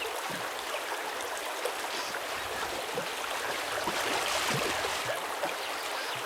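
A jungle river splashes and trickles in the Vietnam War shooter Vietcong, a steady broadband rush of flowing water heard alone at moderate level with small splashy flickers throughout.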